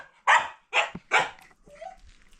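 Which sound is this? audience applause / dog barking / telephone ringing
dog barking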